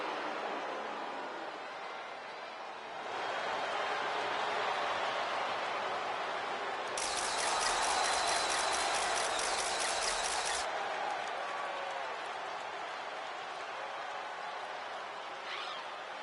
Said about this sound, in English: Tiffany Stratton getting a warm welcome from this home crowd.